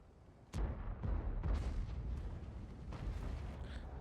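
A tank gun on the MKpz 68 (P) fires in World of Tanks with one heavy, close boom that rolls into a long rumbling tail, followed by fainter mechanical clanks and thuds.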